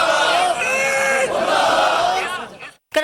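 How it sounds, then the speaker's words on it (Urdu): Large crowd at a street protest rally in Pakistan chanting slogans against Israel in solidarity with Palestinians, loud massed voices in rhythmic surges that drop out briefly near the end. "گلی گلی شہر شہر اسرائیل مرد آباد کے نعرے"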